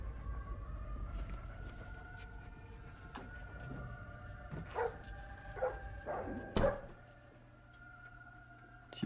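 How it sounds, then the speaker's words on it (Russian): A dog barking inside the stealth video game Splinter Cell: Blacklist, a few faint scattered barks over low game ambience and a droning, siren-like background tone, with no voices. "У него тут собака."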